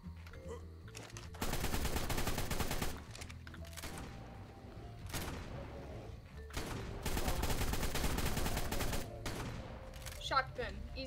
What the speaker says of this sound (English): Shotgun, easiest thing to land.